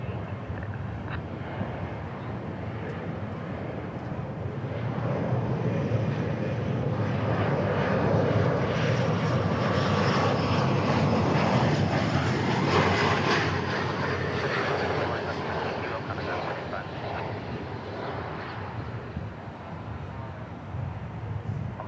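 Jet airplane engines at DFW Airport, a broad, loud roar that swells to a peak midway and then slowly fades over about twenty seconds, with rushing wind-like noise throughout.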